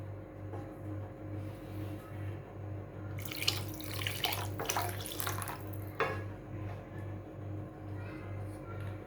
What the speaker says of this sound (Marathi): मी यामध्ये थोडंसं पाणी ॲड करते.